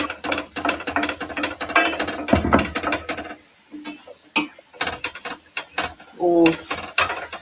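A seasoning grinder turned by hand in a home kitchen during a live cook-along, giving bursts of dry ratcheting clicks in quick runs with short pauses, close and fairly loud, with a brief voice near the end.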